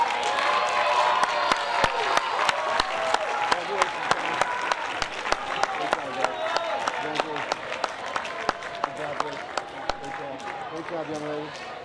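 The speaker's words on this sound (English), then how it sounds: "a big round of applause for all our 9th grade Principal Award winners" An awards-night audience at Valley Stream Memorial gives sustained applause for ninth-grade principal award winners, dense rhythmic clapping with sharp individual claps standing out and crowd chatter and cheers underneath.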